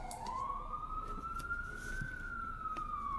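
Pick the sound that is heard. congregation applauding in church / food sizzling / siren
siren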